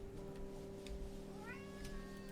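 A single cat meow rises near the end of the clip, short and fairly clear over a steady electrical hum and background noise.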